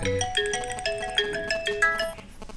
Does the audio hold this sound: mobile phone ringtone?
yes